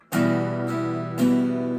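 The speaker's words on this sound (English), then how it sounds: "then you can try to do what we call 8th note strumming" Acoustic guitar strummed twice for a song, each strum a bright, ringing chord that sustains close and loud.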